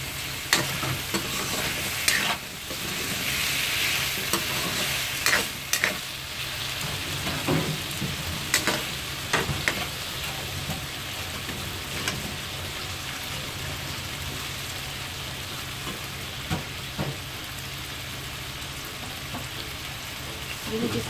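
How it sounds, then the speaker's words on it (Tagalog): Tomato sautés with pork and chicken in a pan, a steady moderate sizzle with intermittent scrapes and knocks of stirring over about twenty seconds, without speech. "Ginigisa ko rin yung tomato"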